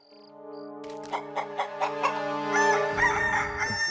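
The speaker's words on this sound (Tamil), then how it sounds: "எறும்பு உலகத்துல கூட ஏதோ ஒரு கோழி எறும்பு இருக்குது போல இருக்கடா" A cartoon rooster lets out a drawn-out cock-a-doodle-doo crow with bright harmonic tones, fairly close and clear, a brief high tone sounding just before it.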